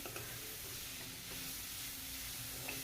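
Meat and koldil (banana flower) curry stirred in a pan over a low gas flame: a quiet, steady hiss of gentle sizzling with faint scraping of the spoon, close by and with no voices.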